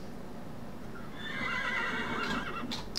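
A Minecraft pack horse gives a short, fairly quiet whinny that rises out of a soft, steady background, ending in a couple of brief snorting bursts.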